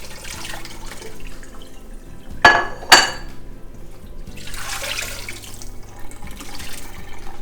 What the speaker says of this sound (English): I might drain a little bit of this so you can kind of see some of the dirt that went in.